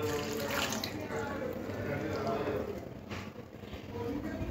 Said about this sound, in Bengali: এবারে কড়ার মধ্যে জল দিয়ে কড়াটা ধুয়ে নেব।